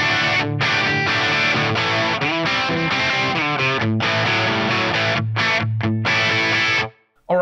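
Crunchy, distorted electric guitar through a Dirty Shirley amp model with an LT TV Mix 2 cabinet, loud chords and riffs played alone with brief gaps, then a short silence near the end.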